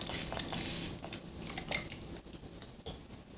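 Short bursts of fine spray hiss from a pump bottle of makeup setting spray, a few quick mists in a quiet room.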